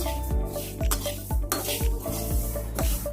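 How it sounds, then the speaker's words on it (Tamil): Black sesame seeds roast and sizzle in a hot pan, with a steady frying hiss broken by repeated stirring scrapes and soft knocks of a utensil against the pan at a slow, regular rhythm. "பாத்திரம் சூடு ஆனதுக்கப்புறமா எள்ளு கொட்டி நல்லா வறுத்துட்ருக்கேன்"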